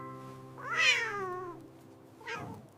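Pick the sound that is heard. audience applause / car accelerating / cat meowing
cat meowing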